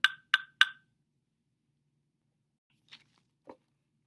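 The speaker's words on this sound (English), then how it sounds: "We've got here some go-go bells. Have a low sound and a high sound." Three bright metallic strikes on agogo bells, low and high, in quick succession, followed by a pause and two faint, softer knocks.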